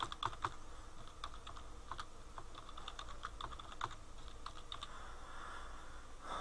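Someone types a password on a computer keyboard, a quiet, fairly close run of light irregular key clicks and taps over a faint room hiss.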